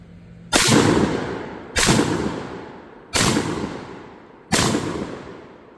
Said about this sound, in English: Those were Monarch 12 gauge buckshot that I just ran through that.